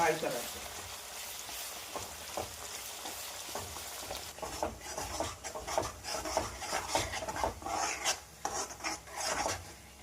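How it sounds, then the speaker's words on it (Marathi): Cumin and chutney paste fry in hot oil and are stirred, giving a soft close sizzle and rough scraping strokes that grow busier midway, with no voices. "तेल गरम झाल्यानंतर जिरे टाकायचं, त्यानंतर चटणीचा पेस्ट टाकायचा आणि त्याला छान फिरवून घ्यायचं।"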